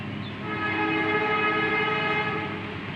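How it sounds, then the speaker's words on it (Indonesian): Train passing on a railway track near a city forest park in Tulungagung, Indonesia: a loud, steady horn blast with a rich harmonic tone, sustained over continuous rumbling from the rails, with no talking. "ini tempatnya tidak jauh dari jalur rel kereta api ya. Jadi setiap saat ada kereta api lewat"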